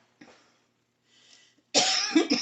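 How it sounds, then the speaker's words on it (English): A few coughs: a short muffled one, a faint pause, then a loud, harsh burst of coughing close by. "if I start coughing on you, I'm sorry"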